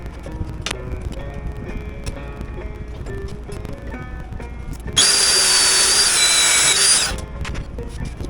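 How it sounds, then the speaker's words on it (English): A power drill bores through a metal brace piece on a 1932 Studebaker frame, a loud steady high whine lasting about two seconds over workshop background noise, then winding down. "I can drill through that without having to drill through my piece and my table"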